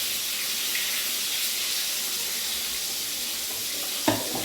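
Food fries in a pan with a steady, even sizzling hiss close by, broken near the end by a single brief knock, and no one speaks.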